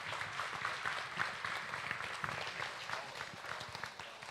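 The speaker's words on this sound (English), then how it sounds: "give him another round of applause" An audience applauding an exhibitor at a state fair beef show, steady clapping from a crowd in an arena, moderately distant and continuous for several seconds.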